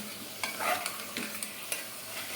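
Drumsticks sauté with mutton in a pan, a soft continuous sizzle broken by several light clicks and scrapes of a spatula stirring, fairly quiet with no voices.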